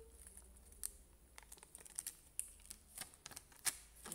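Eye patch packaging is opened quietly close by, with scattered crinkles, tears and small plastic clicks among soft handling noises.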